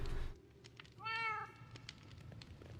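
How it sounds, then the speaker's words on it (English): A pet house cat gives a single clear, drawn-out meow at close range. It is set against a quiet background with faint clicks and a brief noise at the start. "Speaking of cats, here's mine. He's napping away."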